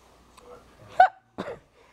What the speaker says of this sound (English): Why you got the hiccups?